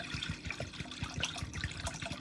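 Water from a tea kettle splashing into a cooking pot, a close, continuous gurgling pour with bubbly trickles.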